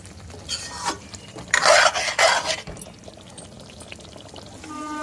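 Gongura chicken curry stirred in a pot: close, loud scraping and rasping strokes of a spoon against the pot come in a couple of bursts, then settle into a quieter bubbling simmer.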